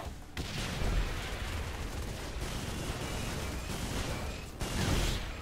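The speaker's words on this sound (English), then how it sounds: "I'm using the America gun." Heavy, continuous gunfire from the America gun in Saints Row IV, a dense, loud roar of rapid shots that runs nearly the whole time, with brief breaks near the start and near the end.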